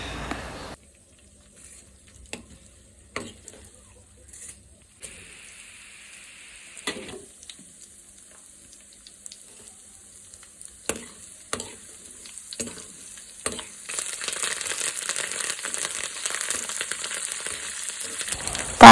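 Spices sizzle in not-yet-fully-hot oil while tempering a tamarind-leaf chutney, starting with sparse clicks and stirring taps that build into a steadier, louder crackling sizzle toward the end.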